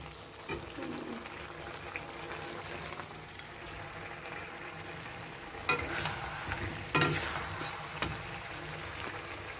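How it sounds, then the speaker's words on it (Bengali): Chicken cooks in a pan, giving a faint sizzle and frying hiss. Occasional sharp clinks and scrapes come from stirring, louder near the middle and end. "এই দেখো চিকেন রান্না করছি"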